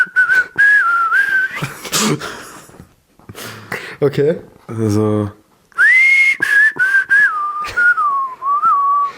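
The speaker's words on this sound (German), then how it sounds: "Also ich pfeife manchmal einfach so ein bisschen." A person whistles a wavering, tuneful melody in two stretches, with short spoken words between them, close and fairly loud.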